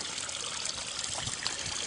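Water trickles steadily into the filter reservoir of a koi pond, a soft, continuous splashing and burbling heard close up with no voices.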